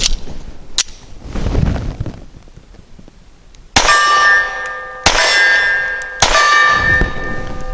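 A Walther CCP M2 pistol fires subsonic 165 grain rounds: three sharp, loud reports spaced about a second apart, each ringing briefly after a few quieter thuds and rustles.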